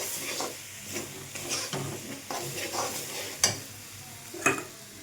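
A spoon stirs chili powder into a sizzling mixture in a pan, giving soft scraping strokes over a low fry hiss, with two sharp clinks near the end.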